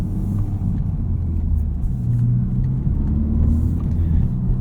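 A 2023 Honda Civic Type R on the move, its engine a steady low rumble under constant road noise from inside the cabin, with no speech.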